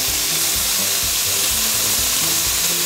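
Butter sizzles loudly and steadily in a hot pan, a dense close frying hiss with faint low rumbling underneath.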